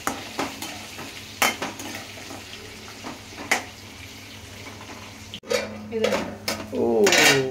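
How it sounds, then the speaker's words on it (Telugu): Mutton bones frying in oil in a pan while being cooked for a spicy mutton dish: sharp scrapes and clanks of a utensil against the pan over a low sizzle, growing busier and louder near the end. "ఈ బొక్కలు అయితే మంచిగా ఫ్రై అయినాయి నూనెలా"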